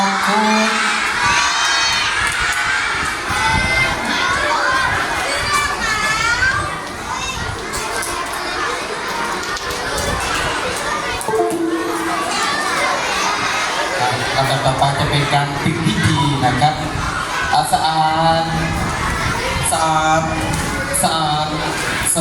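A large group of children and adults shouts loudly in unison on a counted cue at a workplace ethics and staff development activity, a dense, sustained roar of voices and cheering.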